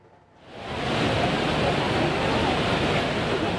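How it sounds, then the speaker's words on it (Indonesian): Heavy rain with strong wind lashes an outdoor campaign field in Citra Raya Cikupa, Tangerang, Banten, swelling within a second into a loud, steady roar that continues to the end. "Hujan deras mengguyur lokasi kampanye paslon Airin Ade di lapangan Citra Raya Cikupa, Tangerang, Banten."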